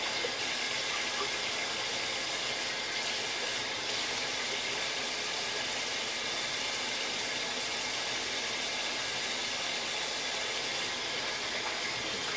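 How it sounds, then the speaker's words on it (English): Warm water runs steadily from a tap while a hand is rinsed under it during a glacial mud mask application, a continuous broadband hiss that stays even and close throughout. "With the warm water and then rinsing your hand each time."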